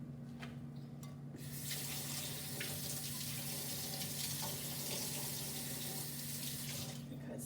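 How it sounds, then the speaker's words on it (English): A kitchen faucet runs steadily, rinsing a spoon in the sink, with a close, constant hiss of splashing water and a low hum beneath it. "So I am going to rinse off my spoon real quick."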